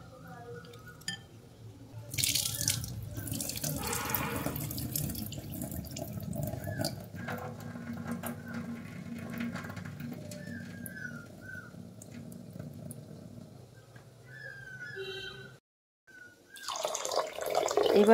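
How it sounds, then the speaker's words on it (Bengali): Masoor lentils being washed by hand in water, with repeated sloshing, squeezing and splashing in a bowl or sink, close and fairly steady, with a few dripping and pouring moments near the end. "হাত দিয়ে বেশ চটকে চটকে ধুয়ে নিচ্ছি"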